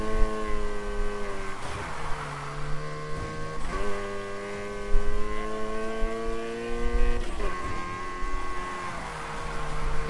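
A Need for Speed race car engine revs repeatedly in the game, its pitch climbing and dropping through several gear shifts, loud and buzzing with no talk.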